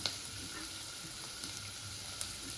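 Ginger, green chilli, finely chopped onion and curry leaves sauté in a pan, a faint, steady sizzle close by, broken by a couple of light clicks from stirring.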